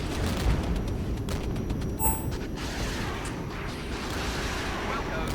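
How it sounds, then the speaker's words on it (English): Napalm strike explosions in the Regiments war game, a dense continuous low rumble of burning and blasts with a brief thump midway, steady and loud throughout. "And the napalm coming in as well."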